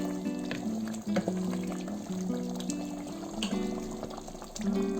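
Chicken curry cooked with bathua leaves is ladled into a serving bowl, giving a steady wet pouring and sloshing sound with faint clinks, close and continuous, under a background hum, without talk.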